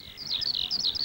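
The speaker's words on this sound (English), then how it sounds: "And the birdies singing their merry songs in the tall trees." Birds sing from tall trees on a morning among flowers, said to include a blackbird, thrushes and sparrows: a quick run of high, warbling chirps, fairly close and continuous over a faint low background.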